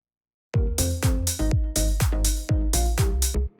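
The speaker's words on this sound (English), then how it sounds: "so I've layered it with another clap" Layered clap samples in a house track hit in a steady repeating rhythm, loud and punchy with a low kick-and-bass thump under each beat, starting after a short silence.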